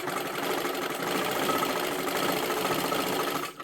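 A sewing machine stitches a silky fabric lining, its needle running in a fast, steady close mechanical whir that continues without pause and cuts off just at the end.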